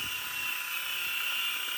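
A stable, hovering RC helicopter with AS3X stabilization gives off a steady, high-pitched rotor and motor whine close by, with no talking.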